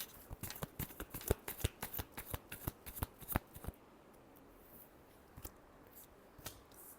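Tarot cards being shuffled by hand, a fast run of crisp riffling snaps for a few seconds, then sparse softer taps and flicks, close and quiet with no voices.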